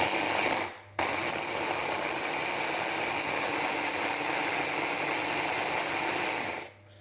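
A kitchen stand mixer rubs butter into flour for English scones, starting with a brief stop, then a steady, even whirring drone that holds for several seconds before cutting out, with no talk.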